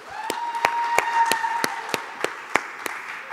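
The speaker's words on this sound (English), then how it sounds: "give them a round of applause for being here" Applause from an audience greeting panelists at a Microsoft cloud partner panel event, a steady wash of clapping with some sharper individual claps standing out, moderately loud in a room with a faint tonal hum underneath.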